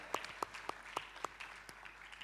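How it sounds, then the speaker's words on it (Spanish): A church congregation claps for workers on Labor Day, with sparse, distinct hand claps in a slow, uneven rhythm, about six sharp nearby claps over a quiet murmur of the room. "Un aplauso para todos los que trabajan."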